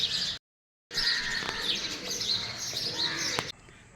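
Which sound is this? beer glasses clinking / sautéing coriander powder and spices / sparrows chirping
sparrows chirping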